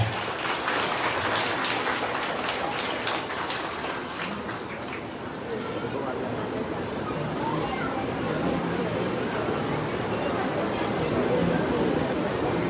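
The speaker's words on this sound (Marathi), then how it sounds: "एकदा जोरदार टाळ्या होऊन द्या" Audience applause at a felicitation during a Vitthal Rukmini temple function in Gandhinagar, Kopri: sustained, dense clapping from a crowd holding steady for the whole stretch, with a faint murmur of voices beneath.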